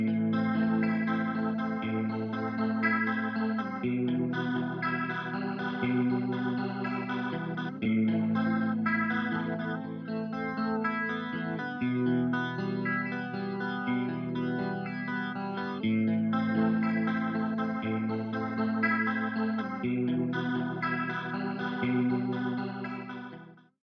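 Music played through a Leslie rotating speaker produces a continuous, swirling chorus-like modulation over sustained chords, loud and steady for over twenty seconds before fading out at the end.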